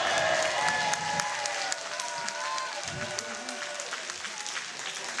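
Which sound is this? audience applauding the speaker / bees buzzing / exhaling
audience applauding the speaker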